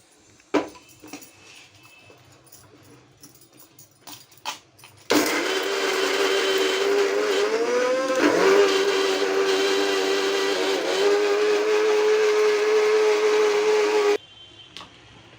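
A mixer grinder whirs loudly and steadily for about nine seconds, grinding raw masala for Chettinad crab gravy, with a brief dip and rise in pitch partway through, then cuts off abruptly to near silence.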